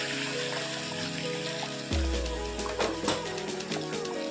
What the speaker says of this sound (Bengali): এবার আমি এতে ফুটিয়ে রাখা জল দিয়ে দিচ্ছি।